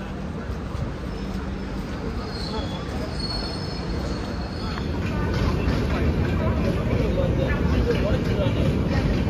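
A Pune–Kanyakumari express train rumbles and screeches into a station, its roar growing louder halfway through, while crowd chatter and voices continue throughout.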